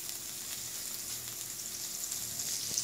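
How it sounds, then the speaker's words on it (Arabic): Chicken liver sizzling in hot olive oil in a pan, a steady continuous frying hiss with faint crackles, close and moderately loud, no voices. "هنا درت زيت الزيتون، وغادي نحط فيها هاد الكبده بحال هكا."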